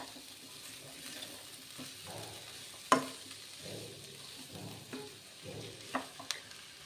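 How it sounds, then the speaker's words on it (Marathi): Mixed vegetables for Bhogi bhaji, a Makar Sankranti dish, being sautéed in a pan: soft, faint scraping and stirring with a low sizzle, plus a few sharp spoon knocks against the pan. "छान परतून घेऊया."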